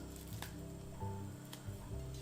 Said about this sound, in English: Add your tomatoes.